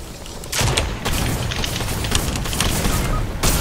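Drum shotgun fire in a video game bursts in loud, rapid overlapping blasts, with heavy booming shots continuing nearly throughout and no clear speech.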